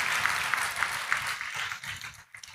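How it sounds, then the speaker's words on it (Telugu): A congregation at a church prayer meeting claps together in a steady, rhythmic beat of sharp hand claps that fades toward the end. "అర్థమైతే చప్పట్లు కొట్టి దేవుని మహిమపరచండి"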